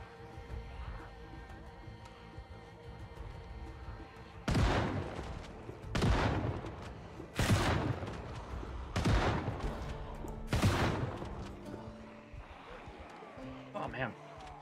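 Shotgun shells fired in the Project Zomboid video game make five loud, evenly spaced blasts about a second and a half apart, each with a short ringing tail, over a quiet game ambience.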